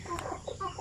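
A hen gives a few soft, short clucks close by, quiet and brief against faint background noise.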